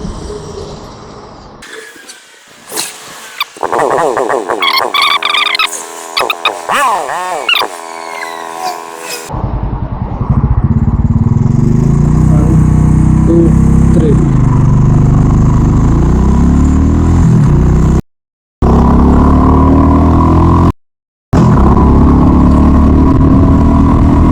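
A modified Royal Enfield Scrambler 350 motorcycle pulls away and accelerates, its engine note rising through several gears with a loud steady drone and rumble after some earlier idling and shifting noise, with brief dropouts near the end.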